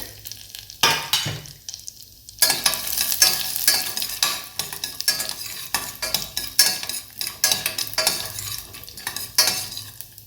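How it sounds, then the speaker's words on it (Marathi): Dry fruits roast in hot ghee for rice kheer, a steady sizzle broken by repeated scrapes and clinks of a spoon stirring against the pan, close and fairly loud, with a brief quieter gap near the start. "यामध्ये ड्रायफ्रुट्स घालून घ्यायचे थोडीशी लालसर होईपर्यंत त्याला भाजून घ्यायचे आहे"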